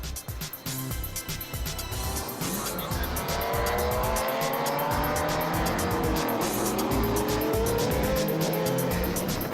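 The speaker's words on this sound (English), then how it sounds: "Plenty of sideways action as the crews enjoy themselves on their gravel tyres on the asphalt." Rally cars from the 2010 WRC New Zealand event slide sideways around an asphalt circuit stage on gravel tyres, with steady loud engine roar and long rising tire squeals throughout.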